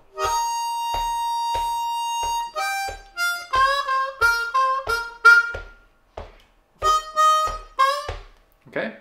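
Eb harmonica playing the verse of a song: rhythmic breathy chords and bent single notes over a steady soft beat, near and moderately quiet, with short pauses between phrases.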